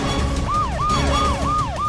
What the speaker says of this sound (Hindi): वो एम्बुलेंस आ गई